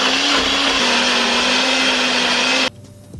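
A kitchen blender whirs loudly, blending a sauce of olive oil, basil and lemon, a steady close motor drone with a slight dip in pitch early on, then it abruptly switches off near the end, leaving near silence.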